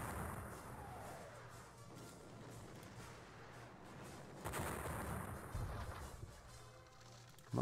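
Artillery fire from a Napoleonic war strategy game set at the Battle of Dennewitz, heard as a continuous rumbling, crackling roar with a few sharper reports near the end, moderately loud and steady throughout.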